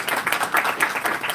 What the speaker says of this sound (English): welcome Professor Dr. Jayashree Shinde with a warm round of applause.